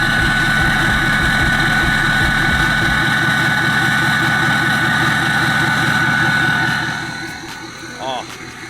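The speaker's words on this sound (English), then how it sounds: "we have the Turbo Time GXR 64 9-blade turbo in there too" Diesel pickup engine fitted with a Turbo Time GXR 64 nine-blade turbo, idling loudly with a throbbing low pulse and a sustained high turbo whine, close by, fading somewhat toward the end as a voice briefly sounds.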